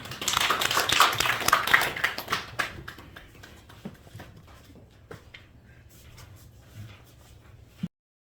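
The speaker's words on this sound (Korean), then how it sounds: "우리 박수로 환영하겠습니다" A congregation at a church thanksgiving service claps to welcome a guest speaker, a burst of close applause that fades within a few seconds into scattered taps and quiet room noise before cutting off.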